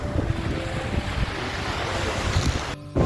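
Rushing sea water and surf churn steadily under heavy wind buffeting the microphone, loud and close, with no speech.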